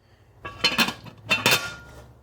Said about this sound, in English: I'm going to put a lid on that